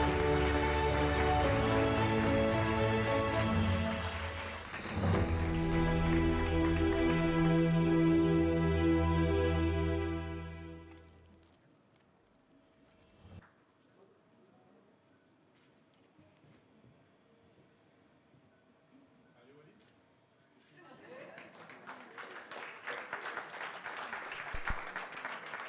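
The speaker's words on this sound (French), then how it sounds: "on les applaudit." At an awards ceremony at a business forum, loud tonal music plays for about ten seconds and then cuts out into near silence. A crowd's applause swells in afterward as a dense, rising patter of hands.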